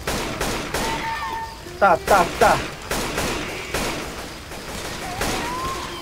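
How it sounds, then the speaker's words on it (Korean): AK rifle gunfire in the video game Left 4 Dead 2, on a custom map set in a Japanese city, rattles in rapid bursts amid dense game noise, with players talking over it. "이 AK를 쏘는데 이 청량한 총소리"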